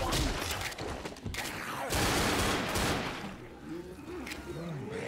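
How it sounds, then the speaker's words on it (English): Gunfire in the Left 4 Dead video game, with bursts of shots mixed into a dense, roaring chaos of game noise and growls, continuous and moderately loud. "I can't see where I'm shooting at."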